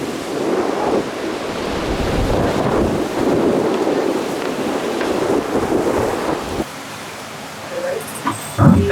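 Strong wind buffets the microphone and a big ocean swell roars around a sailing boat, a loud, continuous rushing that eases slightly near the end, with a few knocks and brief voice traces.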